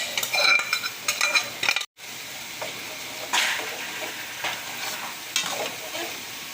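Soft-cooked mashed rice is stirred into sambar in a pan, giving repeated wet scraping and churning strokes over a gentle bubbling sizzle, with a brief break partway through.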